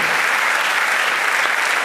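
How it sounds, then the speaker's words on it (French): A television studio audience applauds loudly and continuously, a dense, even roar of many hands clapping close up with no gaps. "Est-ce qu'on va applaudir pour ça, s'il vous plaît?"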